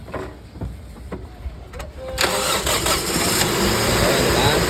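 A few scattered clicks and rattles, then the engine of a 2010 Toyota Vios cranks and catches, settling into a steady rumbling idle.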